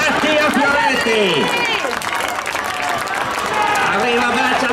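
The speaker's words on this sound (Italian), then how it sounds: "Ha un applauso" A crowd applauds a rider finishing the junior men's 10000 m points/elimination final at the 2021 Italian track cycling championships, with steady clapping and cheering under a loud, excited commentator's voice throughout.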